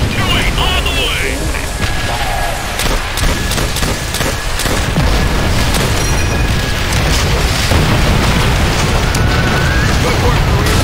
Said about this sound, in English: Call in rocket strikes on those positions, now!